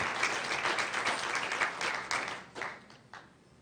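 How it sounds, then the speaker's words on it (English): A room at a school district board meeting breaks into a round of applause for energy conservation specialists, dense clapping that holds for a couple of seconds and then thins out to a few scattered claps. "Let's give them another round of applause"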